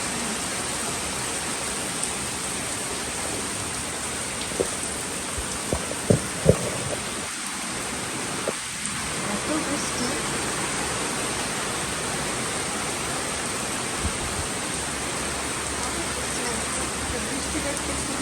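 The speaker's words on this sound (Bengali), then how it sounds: "এত পরিমাণ বৃষ্টি নামছে" Heavy rain pours down at night in a steady, dense hiss with a few brief knocks, and a voice is heard faintly in the background.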